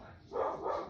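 A dog barks close by in a short, loud burst of yapping that starts a moment in and continues to the end, with no other voices.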